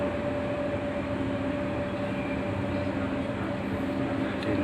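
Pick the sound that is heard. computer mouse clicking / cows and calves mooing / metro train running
metro train running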